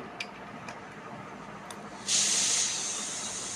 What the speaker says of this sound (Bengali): এবার দিচ্ছে গোলাপ জল